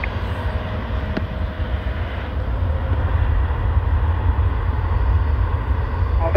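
Airbus A380 jet airliner taking off from a parallel runway, heard as a steady, loud, broadband engine roar that holds throughout, with faint tower radio chatter mixed underneath.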